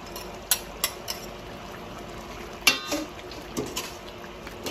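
A spoon stirs chicken afritada with tomato sauce in a metal pot, producing a few sharp clanks and scrapes against the pan over a soft bubbling simmer, with no one talking.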